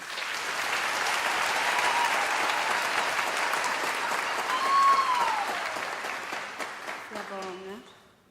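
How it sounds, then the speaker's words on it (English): Applause for the Chancellor at a university graduation ceremony, a broad wash of crowd clapping that swells and then tapers off, with a voice and brief tones surfacing near the end. "Let us give the Chancellor a round of applause, please."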